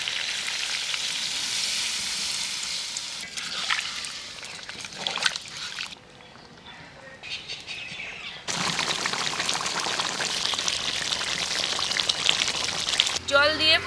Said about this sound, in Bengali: মাংস আলু দিয়ে ভালো করে কষিয়ে নিলাম সুন্দর তেল ছেড়ে গেছে এবার আমি দিয়ে দেবো জল